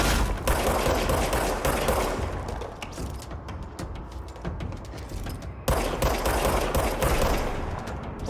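Sustained rapid gunfire from the video game Control rattles on for several seconds, dense and loud, with a brief dip before another heavy burst.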